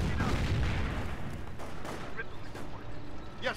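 Gunfire and explosions from the World War II strategy game Company of Heroes crackle in dense bursts, with game voices calling out over the combat.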